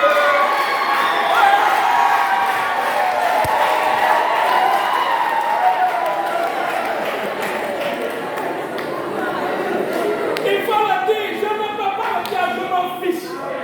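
Congregation at a church exhortation in Simbandi-Balante, Kolda diocese, Casamance, cheering and acclaiming together, a dense, steady wash of crowd voices and shouts that holds for the whole stretch, with some brighter calls rising near the end.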